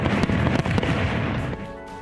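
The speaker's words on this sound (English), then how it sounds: "concluded with a spectacular fireworks display over 4th of July weekend" Fireworks bursting at a township's annual Fourth of July Summer Sizzle event, a dense barrage of overlapping booms and crackles filling the air continuously, loud and close, with no talk.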